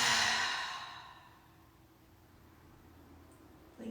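One long, soft exhaled breath during guided meditation, loud at first and gently tapering into quiet room hiss, with a faint breath returning at the very end.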